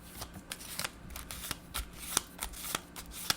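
Cards are shuffled close by, a soft continuous riffling with sharp little snaps and flicks scattered throughout, no talking.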